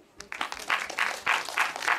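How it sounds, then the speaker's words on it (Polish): A live audience claps and cheers at a small open singing event in Gdynia before a young girl performs, the applause swelling in steady waves over a couple of seconds. "Jeszcze nie zaśpiewała, są brawa"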